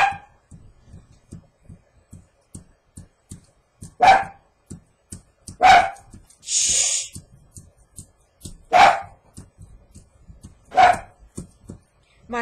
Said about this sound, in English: Belle, don't bark, baby